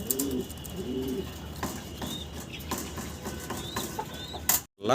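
Fancy pigeons, including a blue-bar Shadel racer, coo steadily in a loft with overlapping soft, rolling calls and occasional chirps against constant background hum.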